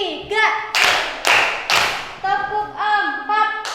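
In an elementary school classroom, a class claps in short bursts that alternate with a teacher's voice calling out a count, so each round of applause comes between spoken prompts.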